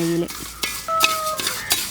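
Banana pieces frying in ghee in a heavy metal pan, with close, loud scraping and clinking of a spoon stirring over a soft sizzle.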